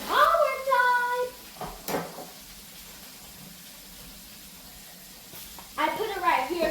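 Food sizzles steadily in hot oil while dinner is cooked at home. The sizzle is soft and continuous through the middle, with a high-pitched voice talking before and after it.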